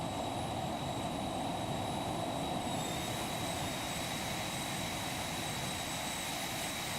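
A steady, even roar from the jet engines of an Embraer Phenom 300 business jet in a flight simulator game, with a high whine running underneath the whole way through and no talking.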